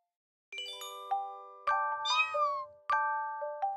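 A cartoon cat gives a series of bright, tonal meows, about four separate calls spaced across a few seconds, clean and close against silence.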